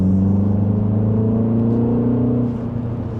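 A 2025 Mini Cooper S Hardtop 4 Door's engine hums and rises smoothly in pitch as it accelerates, a steady whirring drone that eases off near the end.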